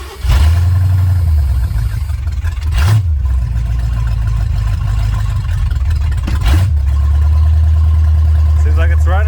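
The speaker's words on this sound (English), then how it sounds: "Seems like it's running, guys. It's idling." A 1984 Ford F150 engine cranks briefly and catches, then settles into a loud, steady low idle, with a couple of short throttle blips along the way and a brief voice near the end.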